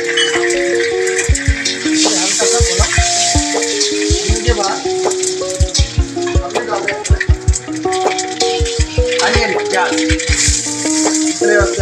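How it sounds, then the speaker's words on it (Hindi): Red chili and mustard seeds sizzle in hot oil for breakfast poha, giving a constant crackle with scattered sharp pops and spits, while a voice and tonal sounds run over it. "उसके बाद हमने मस्टर्ड सीड डाले"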